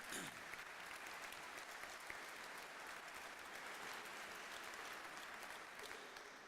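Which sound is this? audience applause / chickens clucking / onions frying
audience applause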